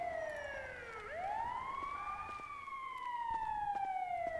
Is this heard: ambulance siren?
yes